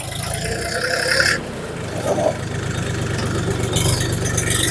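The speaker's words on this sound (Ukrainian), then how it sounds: "Легко заводиться. Ну, Мотор шепче, моторка М385." A Bulat 244 L tractor with an M385 engine idles close by, a steady, loud low rumble with an even mechanical chug throughout and no talk.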